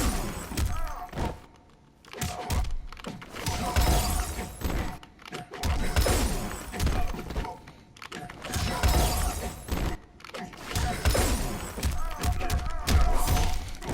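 Sub-Zero's shatter move in the cryomancer variation in Mortal Kombat X, a fighting game: repeated icy crashing smashes and heavy thuds amid dense, busy game effects, loud and close throughout.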